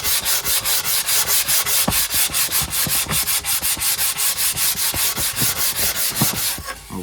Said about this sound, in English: Give this piece of ply a very light sanding.